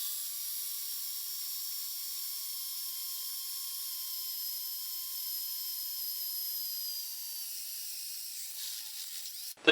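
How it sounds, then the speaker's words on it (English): A drill boring marked holes into a used band saw casting gives a steady, high-pitched whine that runs unbroken for nearly ten seconds, close and fairly loud, then cuts off abruptly at the end. "Now I can go ahead and drill out the holes where I marked them"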